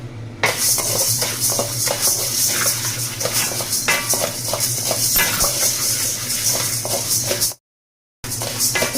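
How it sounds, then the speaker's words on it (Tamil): Urad dal dry roasting in a pan on a low flame: steady scraping and rattling of a spoon stirring through the lentils against the metal, continuous and close, with a brief silent gap near the end. "இதுவும் அதே மாதிரி சிம்மில் வச்சு நல்லா வறுத்துக்கலாம்"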